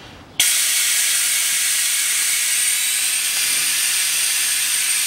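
Brake fluid and air burst out with a sudden loud hiss as the bleeder valve on a Land Rover Discovery 3 opens into a rubber hose adapter, then keep hissing steadily and closely without a pause.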